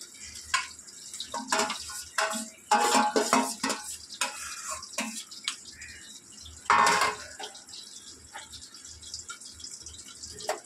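A spoon scrapes and knocks against a metal cooking pot while fish-head dal is stirred, with irregular clinks and clattering bursts, close and fairly loud, separated by quieter pauses.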